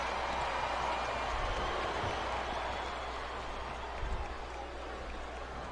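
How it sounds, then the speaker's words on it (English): A dense, steady roar of a wrestling video game crowd (WWE SmackDown vs Raw 2007) murmuring and cheering continuously, broad and loud throughout with no distinct voices standing out. "Sounds like this crowd's got something on their minds, King."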